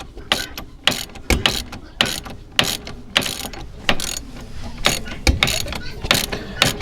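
A ratchet wrench clicks in loud, rapid bursts while an A-arm bolt is being backed out on a CForce 500 ATV, with repeated strokes and short pauses between them, close up in a workshop.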